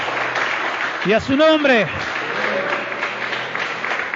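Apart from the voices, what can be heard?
congregation applauding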